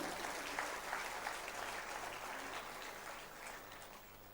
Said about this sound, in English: Can I please request you all to give them a big round of applause?